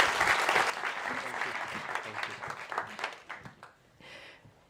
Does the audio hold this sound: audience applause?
yes